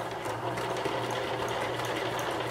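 A sewing machine stitching a tote bag runs steadily and close up, a continuous rapid mechanical hum and needle chatter with no pauses and no voices.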